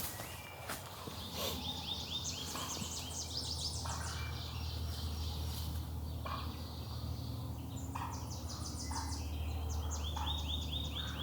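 Repeated loud eastern wild turkey gobbles ring out in bursts over steady outdoor hardwoods background noise, with several rattling calls spread across the clip.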